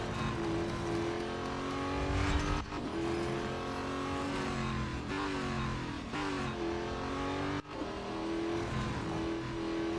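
An LMP race car in Real Racing 3 howls at high revs close up, its pitch climbing and dropping repeatedly through gear shifts, with brief cuts between changes.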